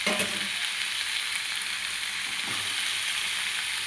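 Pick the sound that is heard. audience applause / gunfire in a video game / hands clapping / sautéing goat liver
sautéing goat liver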